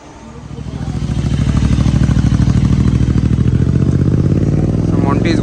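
Motorcycle engine close by, rising from quiet into a loud, rhythmic pulsing putter that stays steady as the bike pulls away for a test ride; brief voices in the background.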